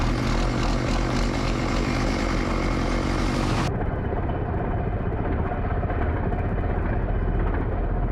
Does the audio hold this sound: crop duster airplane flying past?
yes